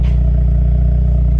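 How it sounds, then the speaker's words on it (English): Active performance exhaust on a 2026 Ford Mustang EcoBoost, a brief deep idling rumble, steady and close with a low throbbing tone. "So you do get that lovely active performance exhaust."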